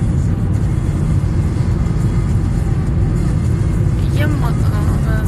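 A car drives along with a steady, loud low road rumble and engine drone heard from inside the cabin, while someone talks over it.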